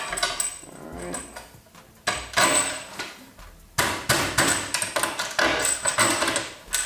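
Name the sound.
hammer tapping bolt into garage shelf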